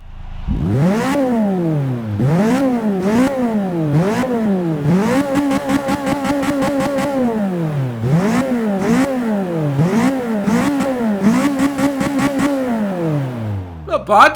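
A small car's engine in Forza 6 revs repeatedly, near and loud, climbing through rising and falling sweeps with rapid bursts of quick blips in the middle and a final sharp climb at the end.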